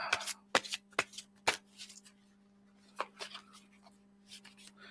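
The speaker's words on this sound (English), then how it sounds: "one more shuffle" Cards are shuffled in several quick riffling bursts, crisp and close, separated by short pauses, with a faint steady hum underneath.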